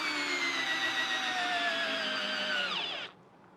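A single-speed power driver running through a chain of adapters sinks a screw with a steady, loud motor whine that holds, dips slightly in pitch near the end and then cuts off abruptly.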